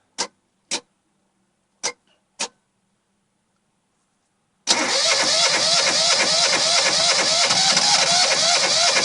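A Yanmar 2GM marine diesel engine, its fuel system being bled of air, gives four short starter bursts separated by silence, then catches and runs with a steady, loud, rhythmic diesel chug.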